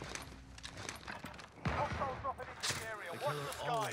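Call of Duty Warzone firefight, with shots popping in the first half. Voices then talk over the action in the second half.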